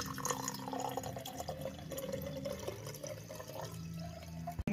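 Water poured in while making nannari sarbath, a summer drink: a steady close trickle and splash of liquid for several seconds, ending with a brief knock.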